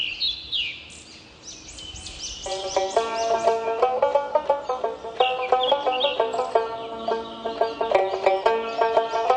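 Desi chickens cluck and chatter repeatedly in a busy, overlapping flock, with a few higher bird chirps at the start, close by and fairly loud.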